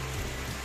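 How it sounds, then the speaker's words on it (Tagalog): Very heavy rain pours outside a house, heard from upstairs as a dense, steady rushing wash in one brief moment, with no voices. "Nandito lang ako sa taas ng bahay kasi sobrang lakas sa ulan po."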